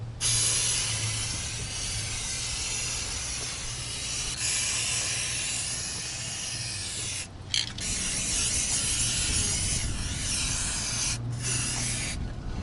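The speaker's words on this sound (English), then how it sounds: "I'm going to lightly spray it on all the parts that tends to get rust" Rust-preventive coating sprayed onto automotive exhaust parts from an aerosol can, a sustained close hiss broken by two short pauses, with faint rattling mechanical noise underneath.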